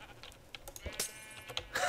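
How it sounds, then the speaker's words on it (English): Sheep bleating in the Minecraft video game, a few short bleats over soft clicking that sounds like keyboard typing, fairly quiet and close. "Oh, sheep!"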